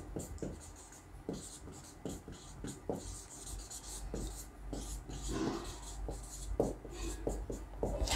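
Chalk or marker writes on a board in short scratchy strokes with small taps and pauses between them, close and fairly quiet, and no voice is heard.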